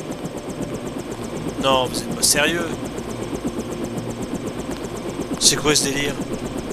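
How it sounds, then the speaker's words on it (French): A helicopter in the video game Deus Ex hums as a steady engine drone beneath the whole stretch, with a person talking excitedly over it and game voice effects cutting in briefly. "J'ai l'impression d'entendre un hélicoptère"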